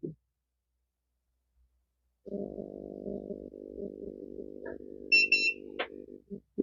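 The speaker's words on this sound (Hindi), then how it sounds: "एक बीप भी आ चुकी है" A Luminous inverter under repair gives a sustained buzzing drone for several seconds, with a short high electronic beep near the end and a few faint clicks, close and without speech.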